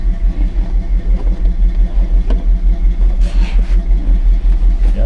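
A car fitted with a 225 Slant 6 engine runs steadily, giving a continuous low, labored rumble with a slight rhythmic pulse and no voices over it.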